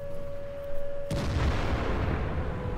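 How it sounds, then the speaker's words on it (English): A tank's ammo rack detonates in World of Tanks: a steady hum gives way to a sudden heavy boom that rolls on as a loud, rumbling roar for nearly two seconds. "It's neat too how the ammo rack explosions are different depending on how much ammo you have left in your clip."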